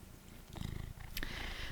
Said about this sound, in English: Hopefully you don't hear my cat purring